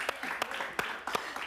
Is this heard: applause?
yes